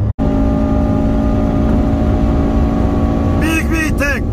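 A Honda Civic Type R FN2 VTEC engine drones loudly at speed on the autobahn, a steady high-revving roar with wind and road noise, ending with a few quick rising engine sweeps as gears change.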